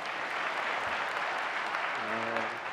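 Applause from a large conference keynote audience, a dense steady wash of clapping throughout, with a brief voice surfacing near the end.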